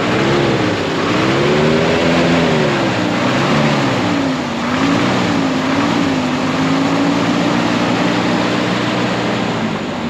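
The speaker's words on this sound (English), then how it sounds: "Listen to that engine burn." Ford F600 dump truck engine idling and running steadily on old gasoline, a loud close rumble with slight rising and falling pitch throughout, no talk.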